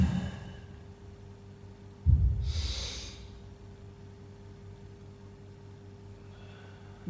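One deep, forceful breath is drawn in close to the mic while bracing for an exercise, a single sharp rush of air followed by quiet stillness, with no talking.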